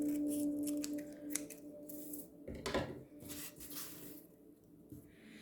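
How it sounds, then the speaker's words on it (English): Scissors snipping coffee filter paper for handmade carnation flowers, a few quiet cuts and paper rustles close by with no talking. "I'm just going to cut them down a little bit because they're big."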